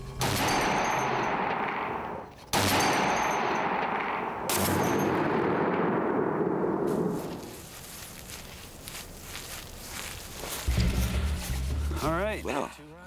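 Several sharp, loud gunshots crack out, each followed by a long echoing decay, then a muffled thump and some handling noise near the end.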